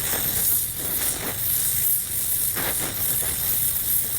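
An oxy-acetylene gas welding torch turned up to heat and melt metal for bigger welds, giving a steady close hiss with slight rhythmic swells throughout.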